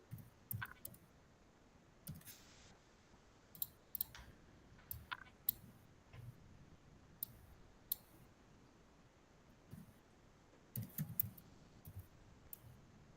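Keystrokes on a computer keyboard while coding a Python YOLO object detection experiment: faint, scattered clicks in short irregular bursts, with no talking.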